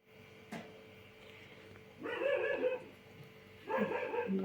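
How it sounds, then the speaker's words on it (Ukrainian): Dogs bark somewhere outdoors near a home garden: one short yip, then two bursts of repeated barking, moderately distant and fairly faint, with no talking. "Бачите, собачки гавкають."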